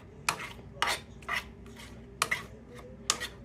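Chicken korma being mixed with dried plums in a pot using a utensil: about six short, crisp scraping strokes in an uneven rhythm, heard close up, with a low background hum and no talking.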